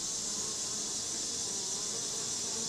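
Bees at the entrance of a beehive in western Tennessee buzz in a dense, continuous hum, close and steady throughout, with no voices.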